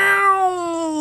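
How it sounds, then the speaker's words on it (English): A cat gives one long, drawn-out yowling meow, close and loud, its pitch sliding slowly downward over about a second. "when they're really being obnoxious, they make their meows much longer"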